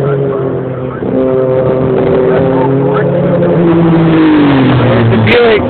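A 1,000-horsepower Buick race car engine roars past at full throttle, its pitch sliding downward as it goes by, with a commentator talking over it.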